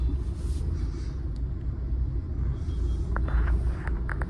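Low, steady rumble of road traffic crawling in a jam where a lane narrows, dense engine drone throughout with faint higher clanks and squeaks near the end, no talk.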